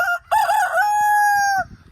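A rooster on a farm gives one loud, close cock-a-doodle-doo crow, rising and then holding a long drawn-out final note, with faint clucking from other chickens underneath.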